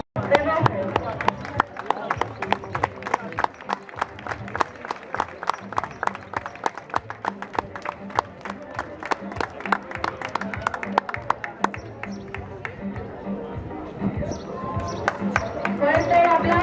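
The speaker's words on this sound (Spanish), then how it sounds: "Fuerte aplauso para Bojo" Loud, sustained applause from a fashion show audience, dense clapping throughout with some crowd noise and a presenter's voice in the background.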